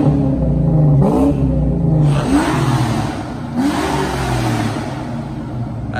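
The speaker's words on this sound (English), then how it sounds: "He's getting a little exhaust rev." A Ford Mustang fitted with an SLP exhaust revs up three times in quick succession, each blip rising then falling back to a deep rumbling idle, loud and close.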